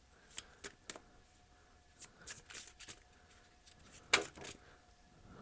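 An oracle card deck is shuffled by hand, with soft riffling flicks and slaps arriving in uneven bursts and a sharper snap near the end, close and quiet with no talk.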